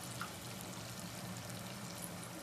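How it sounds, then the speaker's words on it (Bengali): Butter melting into hot oil for garlic chicken in a home kitchen gives a steady, close sizzle and crackle that holds evenly throughout with no talking. "তেলের মধ্যে বাটার দিয়ে নিচ্ছে।"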